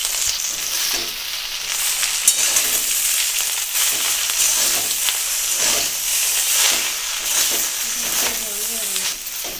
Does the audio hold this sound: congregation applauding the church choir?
no